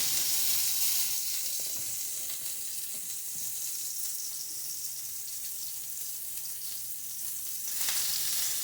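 Salisbury steak patties frying in a pan over medium heat, a steady, bright, hissing sizzle that runs evenly for several seconds and swells slightly near the end, with no talking.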